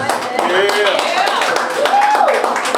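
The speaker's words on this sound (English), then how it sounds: "give a round of applause" A live audience applauds with clapping and cheering voices, a dense, steady wash of claps that stays loud throughout the short moment.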